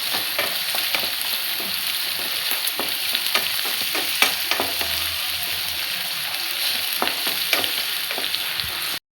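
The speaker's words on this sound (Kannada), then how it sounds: "ಈರುಳ್ಳಿ ಹಾಕ್ಕೊಂಡಿದ್ದೀನಿ. ಈರುಳ್ಳಿ ಸ್ವಲ್ಪ ಬೇಯಬೇಕು." Onions fry in a pan on the stove, giving a steady sizzle throughout with frequent scraping and clinking as they are stirred, close and fairly loud.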